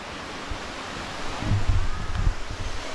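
A waterfall on the Vratza-Zgorigrad mountain trail in Bulgaria gives a steady, broad rushing roar, with a few soft thumps of movement nearby.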